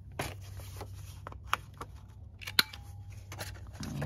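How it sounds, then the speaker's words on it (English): A paper corner rounder punch set to its largest size trimming envelope flaps, giving a few sharp, close clicks and crisp snips spaced apart amid faint paper rustling. "I'm using my corner rounder in the biggest setting because I want the flaps to"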